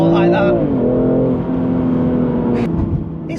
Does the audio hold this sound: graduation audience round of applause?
no